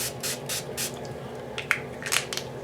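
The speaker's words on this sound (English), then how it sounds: "I'm going to take the squeezed orange, and I'm going to spray in that box, in this box." Dylusions ink spray in squeezed orange misted onto a paper journal page, heard as a few short hissy bursts early on, then a couple more sprays and small handling scrapes, close and fairly quiet.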